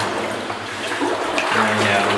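Wading knee deep through water in an abandoned mine along ore cart rails, with steady sloshing and splashing close by under a low rumble and occasional talk.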